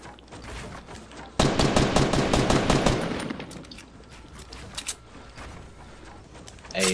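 Sniper gunfire in an online shooter video game: sharp, loud bursts of rapid shots crowd the middle stretch, then thin out into scattered, fainter reports, with no voices.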